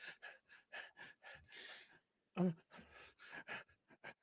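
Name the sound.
game master imitating panting and hyperventilating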